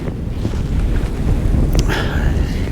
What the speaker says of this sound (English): See the wind's getting up.